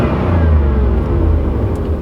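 Steady, low rumbling idle of an LB9/L98 Tuned Port Injection V8 engine sitting in park, running smooth and even at close range with no talk over it.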